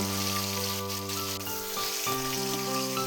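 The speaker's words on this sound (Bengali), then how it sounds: "এবারে মাছটা ছেড়ে দেবো ভালো করে লাল করে ভেজে নেব" Fish pieces frying in oil until browned for a homestyle Bengali fish dish: a steady close sizzle runs underneath a sustained tonal hum that shifts pitch midway.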